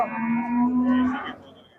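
A young ox at the Shahrisabz livestock market gives one long, steady low moo, close and loud, fading out at the end.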